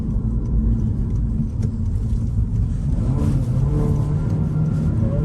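A new Honda Civic Si with a six-speed manual drives and accelerates hard, a steady close engine roar with road rumble filling the cabin, no talk.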